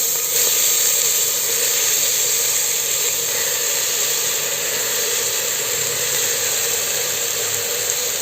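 Washed prawn shells sauté in a hot pan for prawn biryani, producing a loud, steady hiss and crackle. It runs unbroken throughout, with no voices.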